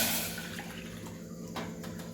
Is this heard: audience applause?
no